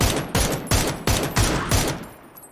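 Five evenly spaced gunshot bursts from a PUBG match ring out loud and close, each one fading into a short echoing tail before the last dies away.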